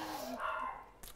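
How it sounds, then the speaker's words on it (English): Dogs barking indoors during a home cooking live stream, a brief faint yip and bark, fairly distant and low in level. "sorry about the dogs barking"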